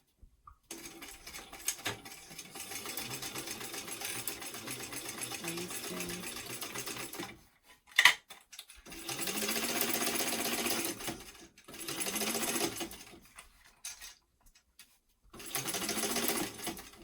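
A sewing machine bastes the seam of a weekender travel bag, running in one long stretch and then in several shorter bursts separated by pauses, close and clear with no voice heard.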